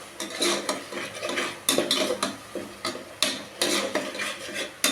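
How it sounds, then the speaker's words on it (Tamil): Utensil scraping and stirring in a pan as ground coriander, mint and curry leaf paste is mixed in for onion pulao, a run of close, irregular scrapes and clinks with no voices. "அரைச்சி வச்சுருக்கிற கொத்தமல்லி புதினா கருவேப்பிலை இந்த சாரையும் இதோட கொட்டி கிண்டிக்கலாம் நல்லா வணக்கிடலாம்"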